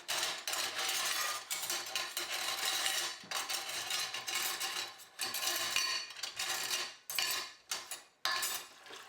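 A full set of cutlery is turned over inside a container during cleaning, producing repeated metallic clinks and rattles in irregular bursts, fairly close and clear, with brief pauses between shakes.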